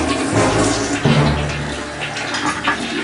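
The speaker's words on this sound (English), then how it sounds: "now you can go potty and flush." A toilet flushed by a pitbull dog, a continuous rushing and gurgling water sound with a low tonal swirl near the start that gradually thins out, heard fairly close with no talking.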